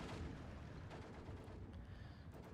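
Steady machine-gun fire from a German MG08 in a Steel Division 2 wartime battle, dense rattling bursts filling the whole stretch with rumbling low end, no gaps and no speech.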